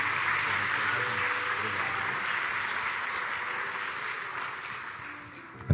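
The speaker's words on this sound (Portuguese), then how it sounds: "Vamos dar mais uma salva de palmas de Jesus?" A church congregation claps in sustained applause, a dense, even patter that slowly fades toward the end.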